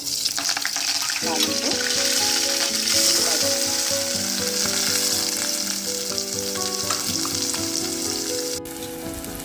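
Steady, close sizzling of onions frying in four tablespoons of hot oil in a pan, with occasional stirring scrapes and a brief tap of metal.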